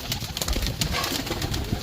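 A slender female kaldumi pigeon, a strong flyer, coos nearby in a brief, soft, throaty burst, with no talk over it.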